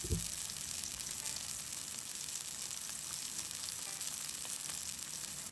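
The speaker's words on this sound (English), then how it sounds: "Here I allow the fish to sear and those spices will begin to char." A blackened redfish fillet sears in a hot pan, giving off a loud, continuous hiss and crackle that holds steady throughout, with no voices.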